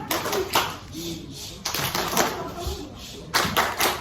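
Elementary school children in an Indonesian classroom perform a rhythmic clapping chant, sharp bursts of claps in short patterned groups mixed with voices chanting along.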